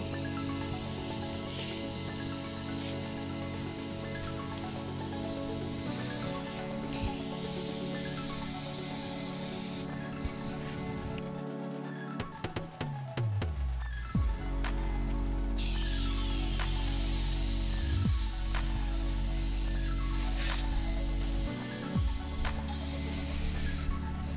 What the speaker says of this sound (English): So I'm now going to adjust the spray gun to widen the spray pattern out.